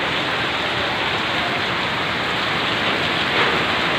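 Heavy, steady rain pours down in a dense, constant hiss, loud and unbroken throughout.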